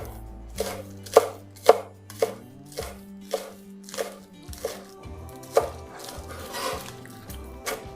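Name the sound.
knife chopping spring onion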